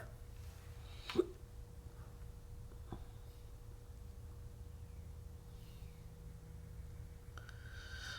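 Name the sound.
hiccups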